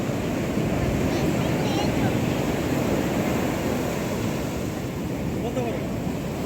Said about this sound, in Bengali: দেখো ঢেউটা দেখো